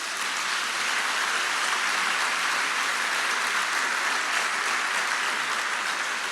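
A church congregation at a family gathering applauding: dense, even clapping like heavy rain, steady and sustained from start to finish, with no speech over it.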